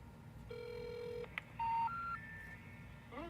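A telephone line plays a series of tones as a number is dialed: a long held tone, a short click, then several shorter stepped tones at rising pitches, clear and alone over a faint hum.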